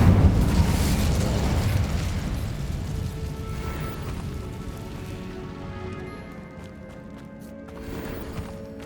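Fire spell cast during combat in a Hogwarts Legacy catacomb, heard as a loud roaring whoosh and burst that trails off into a crackling, fading rumble with lingering tonal ringing.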